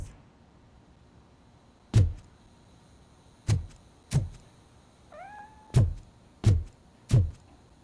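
Inside the video game Robocop: Rogue City, a cat gives one brief meow midway through, surrounded by a series of sharp, loud thuds spaced a second or so apart against a quiet background hum.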